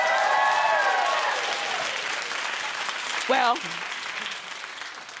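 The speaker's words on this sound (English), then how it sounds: "sir, you don't have to clap if you don't feel it" A studio talk-show audience claps and cheers loudly at the start, fading gradually while a host's voice speaks over the tail of the applause.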